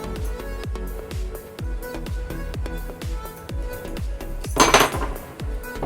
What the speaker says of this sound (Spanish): Entonces vamos dándole vuelta así sucesivamente hasta que parte el tubo.